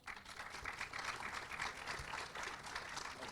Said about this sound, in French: Ils applaudissent aussi, donc c'est plutôt bien.